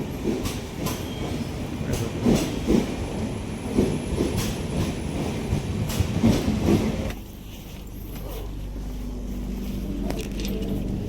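A crowded passenger train runs on the rails with rhythmic clickety-clack and steady rumbling, close and loud, then the sound shifts to a lower, duller roar partway through.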